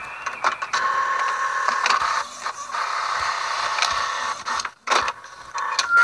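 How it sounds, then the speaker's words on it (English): A printer in the horror video game Eyes The Horror Game runs with a mechanical whirring and grinding that goes on for several seconds, broken by brief pauses and clicks, heard alone at moderate volume. "there goes the printer"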